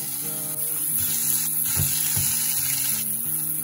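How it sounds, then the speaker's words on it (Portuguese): Tomatoes laid over melted butter in a frying pan give a constant soft sizzle up close, with a couple of dull knocks and a tonal hum running underneath. "Ó, vai forrar o fundo da frigideira com tomate."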